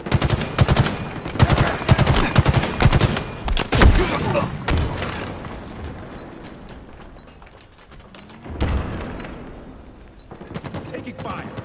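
Rapid automatic gunfire in the video game Halo Infinite, with dense bursts of close shots and thuds that thin out and then return, under faint voices.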